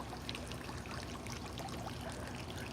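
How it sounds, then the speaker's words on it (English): Water running steadily in an outdoor fountain during a walk, a continuous close splashing trickle with no voices over it. "Can you guys hear the water in the fountain?"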